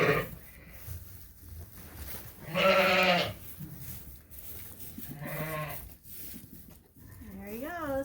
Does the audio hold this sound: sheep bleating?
yes